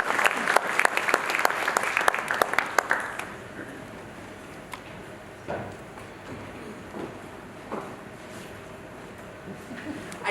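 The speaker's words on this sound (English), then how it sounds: "a round of applause for him as he comes to deliver the welcome address." Audience applause at a conference plenary welcome, dense clapping for about three seconds that thins into scattered claps and fades to quiet room noise.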